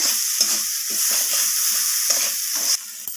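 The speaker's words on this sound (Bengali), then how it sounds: "লবণটা দিয়ে আমি আবারও মশলার সাথে কষিয়ে নিলাম" Spices and salt being stirred and sautéed in a hot pan, with a continuous frying sizzle broken by repeated scraping strokes of a spoon at a steady, unhurried rhythm.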